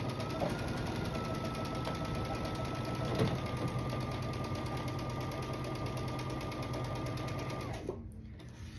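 A sewing machine stitches quilt block seams in a steady, continuous run at close range, motor humming and needle chattering evenly, before stopping abruptly just before the end.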